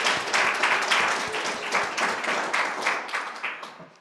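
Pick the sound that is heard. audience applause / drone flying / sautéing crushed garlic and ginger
audience applause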